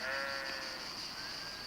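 Sheep bleat in a near, sustained call lasting well over a second, heard alone without talk, fitting a flock of sheep and goats raised by a herdsman.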